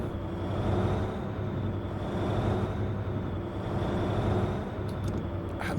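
A truck's diesel engine in Truck & Logistics Simulator drones steadily and loudly from the cab, a continuous low rumble with layered harmonics that swells slightly as it pulls, with faint clicks near the end.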